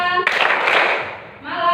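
Classroom students clap their hands together once in a dense burst lasting about a second, sandwiched between bits of a teacher's voice.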